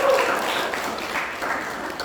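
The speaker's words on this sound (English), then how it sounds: "give applause to Grace." Applause for Grace at a student talk show debate, a steady wash of clapping from a small audience filling the moment, moderately loud with no talk over it.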